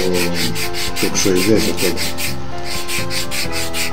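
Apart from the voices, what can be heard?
sanding a wooden fishing lure with sandpaper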